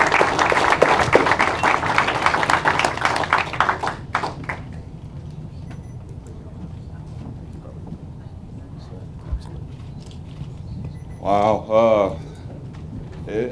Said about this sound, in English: It never gets old, the cheers and the claps and things like that